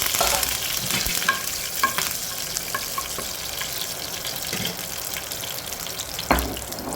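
Curry leaves and dried red chilies fry in a hot oil tempering for a raw banana curry, giving a steady crackling sizzle throughout with scattered sharper pops and stirring clinks, close and moderately loud.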